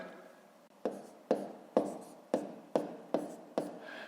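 A pen writing numbers by hand during a fifth-grade maths exercise on multiplying decimals, heard as seven sharp taps and short strokes at an even rhythm, close and fairly quiet, with no talking.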